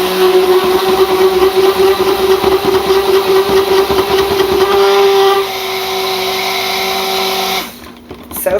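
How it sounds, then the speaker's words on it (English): A blender mixing pink cold process soap batter: a steady, loud motor whir that drops in pitch partway through and then cuts off near the end. "But this is a good blender."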